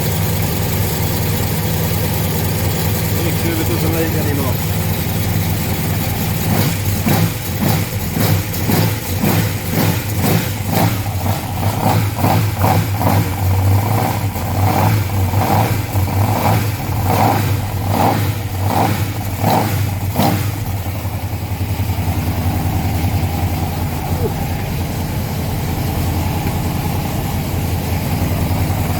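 A TVR sports car engine runs steadily up close, rising into a series of rhythmic revs before settling back to idle, with a brief spoken remark over it.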